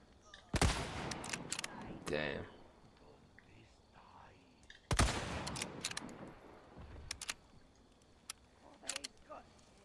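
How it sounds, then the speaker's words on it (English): Two sharp gunshots in Resident Evil 4 Remake, a few seconds apart, each a sudden close crack that rings out and fades into quiet game ambience, with soft voices and faint clicks between them. "It wasn't a loud-ass gunshot."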